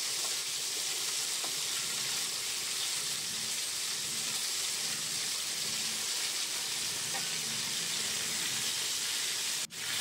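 Long-cut potato sticks and drumsticks fry in hot oil in a pan for a shrimp curry, giving a steady, close, loud sizzle that runs unbroken throughout with only faint clinks behind it.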